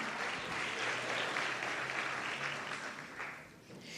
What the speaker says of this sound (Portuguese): aplaude o nome de Jesus com toda a sua força